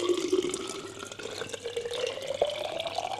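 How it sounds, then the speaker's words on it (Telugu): Water pours into a jar holding mint leaves for infused water, a close, gurgling stream whose pitch rises as the jar fills. "ఇంకా దీన్ని వాటర్తో ఫిల్ చేసేసుకొని రేపు మార్నింగ్ వాటర్ తాగేయడమే."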